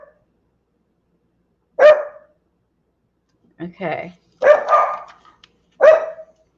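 A dog stands on its hind legs barking out a cracked-open window, giving about four sharp, fairly loud barks in separate bursts with quiet gaps between them, and a brief spoken word comes in near the start.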